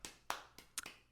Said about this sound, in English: I don't know why the claps are stuttering.